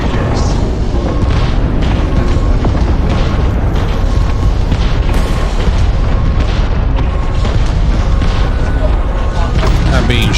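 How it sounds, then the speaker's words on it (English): Loud, dense gunfire and booming impacts in Starfield, with a player being shot from behind during a bounty hunting fight; heavy continuous combat noise fills the whole stretch, with voices underneath. "I'm being shot from behind"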